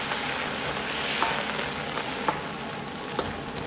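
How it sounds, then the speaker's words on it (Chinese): Pork ribs stir-fry in a wok after cooking wine is added, giving a dense, loud sizzle with a few light clinks of the turning utensil; nobody speaks. "继续翻炒几下"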